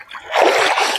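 Fish freshly caught from a pond are rinsed in water, giving a loud, continuous splashing and sloshing that builds after a quiet start and stays close for about a second.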